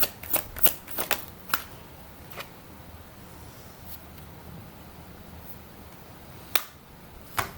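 Tarot cards are shuffled in quick riffling bursts, a flurry of crisp papery slaps at the start and two more short bursts later, close and clear over quiet room hiss.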